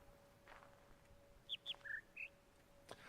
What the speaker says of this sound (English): it's like the nice little bird noises